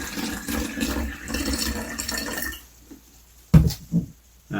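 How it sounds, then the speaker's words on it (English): Liquid poured through a funnel into a bottle, a steady trickling stream for a few seconds that stops, followed by a few louder glugs and splashes close by. "Pour it down."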